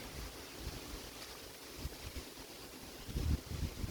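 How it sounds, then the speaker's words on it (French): Light wind rustling and blowing across the microphone in a steady outdoor wash at an apiary, swelling slightly toward the end. "Un petit vent, une petite brise là."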